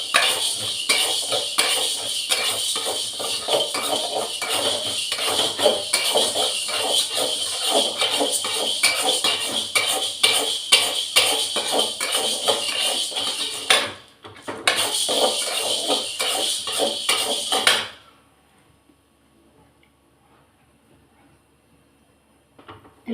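A spatula scrapes and stirs ingredients roasting in a metal pan for a thogayal, a continuous close clattering with a brief pause, then stopping into near silence.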